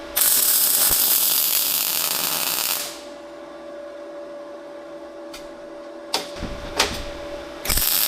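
A YESWELDER MIG-205 Pro MIG welder lays a bead with a loud, steady crackling hiss for about three seconds. It then stops, leaving quieter workshop handling noises and a few knocks.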